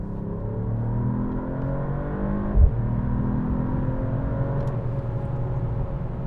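A 2025 Mercedes-AMG E53 plug-in hybrid pulls hard at full throttle, a steady engine drone with a rising whir heard from inside the cabin, loud and continuous with one brief thump midway.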